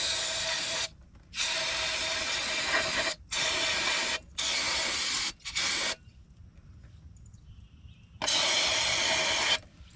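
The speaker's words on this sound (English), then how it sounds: "You wash it out with brake cleaner and starting fluid." Brake cleaner sprays from an aerosol can in several bursts of loud hissing, each a second or two long and separated by short pauses, while a filter is washed out; one longer blast comes after a quiet gap.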